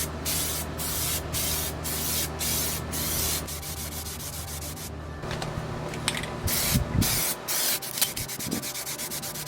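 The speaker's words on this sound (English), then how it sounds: "now it's time to spray my first coat of plasti dip smoke" An aerosol can sprays Plasti Dip smoke coating onto Ford Mustang S197 tail lights in short, even hissing bursts, then a run of quicker spurts and faint handling clicks, close and without voices.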